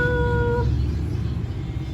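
A cat meows once, a short tonal cry in the first half-second, then only quiet room noise follows.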